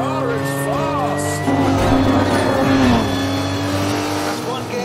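A car engine roars hard down an abandoned airfield runway, revving up and shifting through its gears with rising, then dropping, pitch. The engine is loud and close, with a voice faintly over it.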